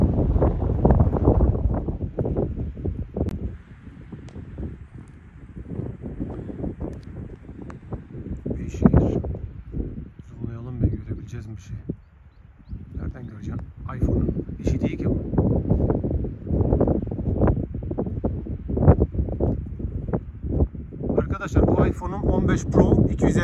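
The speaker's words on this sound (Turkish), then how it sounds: "Gerçekten çok şiddetli bir rüzgar var." Strong stormy wind at a marble quarry buffets the microphone in heavy gusts while a person talks over the roaring noise.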